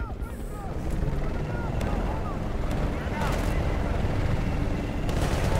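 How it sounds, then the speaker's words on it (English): Enemy helicopters in the Battlefield Bad Company 2 game roar steadily through a dense battle soundscape, a constant loud rotor drone mixed with gunfire cracks and bursts of noise throughout. "Enemy choppers!"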